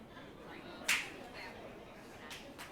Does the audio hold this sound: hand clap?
yes